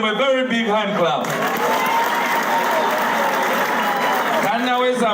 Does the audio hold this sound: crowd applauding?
yes